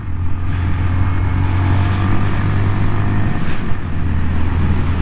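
A 2019 Honda Monkey motorcycle engine drones steadily while being ridden, a loud, constant low hum with road and wind noise underneath, holding a fairly even pitch for the whole stretch.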